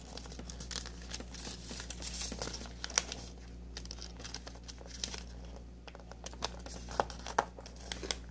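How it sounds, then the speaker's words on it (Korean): Paper being folded into an origami box: soft, close crinkling and creasing rustles with light taps, steady and quiet throughout. "중심을 향해서 반을 접어주시고, 펼쳐서 여기 중앙의 삼각을 안으로 접어 넣어주세요."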